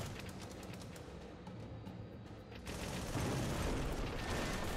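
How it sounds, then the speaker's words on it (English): Dense gunfire and explosions in the video game Project Nimbus form a loud, continuous rumbling barrage that swells into a heavier roar halfway through, with no talk over it. "So many explosions."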